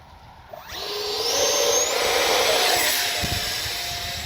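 A high electric whine from an Arrows Red Hawk 50mm electric ducted-fan RC jet taking off spools up quickly and holds steady as it grows loud and near, then starts to fade slightly as it moves off.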